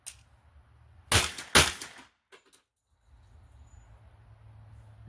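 Gunshots from a Ruger 10mm LC carbine at a range: two sharp, loud cracks about half a second apart, then quiet with faint outdoor ambience.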